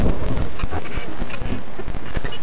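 Thunderstorm in a horror video game: steady, loud rain hiss with low rumbling thunder rolling underneath throughout, no voices.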